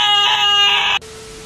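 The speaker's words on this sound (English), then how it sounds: "I could have sworn I heard a scream" A single shrill, harmonic scream from the Roblox game Brookhaven, loud and close, holding for about a second before cutting off abruptly into quiet.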